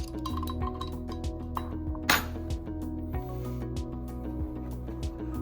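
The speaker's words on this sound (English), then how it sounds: "tighten our rotor retaining bolts. We're going to do this in succession until everything goes home" Bolts on an Ampco ZP1+ pump rotor are tightened one after another until metal meets metal. Repeated close metallic clinks and ratchet-like ticks sound over a low hum, with one brighter clank in the middle.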